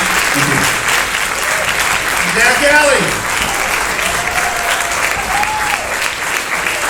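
Sustained audience applause at a live country music show at the Country Music Hall of Fame, a loud, steady wash of clapping from a large crowd, with a voice speaking briefly over it.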